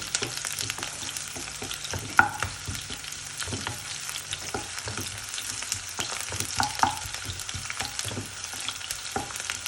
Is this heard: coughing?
no